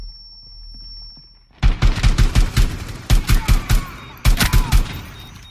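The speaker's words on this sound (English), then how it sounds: "Alright, we are switching to assault rifle now." Assault rifle fire in the video game Rainbow Six Siege, loud rapid bursts of shots in three clustered volleys after a quiet opening.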